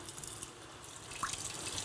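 Kitchen tap running into a sink in a home kitchen, a steady faint hiss of flowing water with a few drips and splashes throughout.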